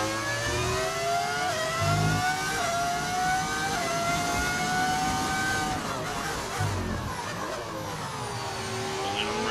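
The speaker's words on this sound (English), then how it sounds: "Those cars sound so fast. That's just the beauty of the V10 engine, man." V10-engined Formula 1 race cars in F1 25 scream past, their high revving engine notes rising and falling continuously as they accelerate and shift, loud and close with no talking.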